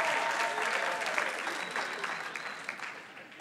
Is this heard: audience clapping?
yes